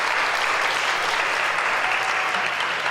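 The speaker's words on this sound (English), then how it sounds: "please give him a round of applause" An audience claps for a guest sound healer being introduced, steady and dense applause from a full room throughout.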